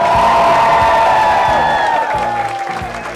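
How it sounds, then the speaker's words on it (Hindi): A studio audience on a game show claps and cheers with some whoops, a lively crowd sound under a loud background music tone that fades slightly toward the end. "तालियां"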